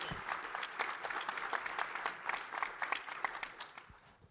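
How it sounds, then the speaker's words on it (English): A conference audience at a wind energy panel event gives a round of applause, dense clapping of many hands held at a fairly quiet, even level for a few seconds before it tapers off. "giving a round of applause to Raphael Sota for his excellent presentation."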